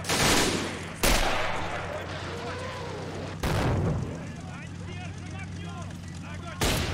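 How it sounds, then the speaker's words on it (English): Video game artillery fires smoke rounds in three loud, sharp broadband blasts about two seconds apart, each followed by a rumbling decay, with a steady engine-like drone beneath and a voice talking over it. "I don't know why we can only fire smoke rounds here, but let's just give it a shot then."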